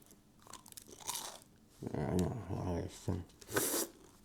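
Crunching bites into hard, stony crusts on the edges of a croque-monsieur, several close, crisp crunches in short bursts mixed with chewing, with a person talking in between.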